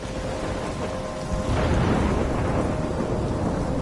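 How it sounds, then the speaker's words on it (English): A thunderstorm in the video game Life Is Strange: heavy rain roars steadily while a deep rumble of thunder swells partway through and rolls on, loud and enveloping. "I'm trapped in a storm?"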